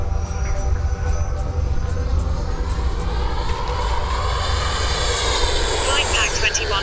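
An electric RC airplane diving at high speed, a loud continuous motor and propeller whine that climbs in pitch as it dives, with a steady rumble of wind underneath and a voice speaking over it.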